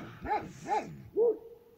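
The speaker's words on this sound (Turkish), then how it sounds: "Köpekler havlıyor." Sheepdogs guarding a flock at night give three loud, close barks, evenly spaced, then the sound fades to quiet.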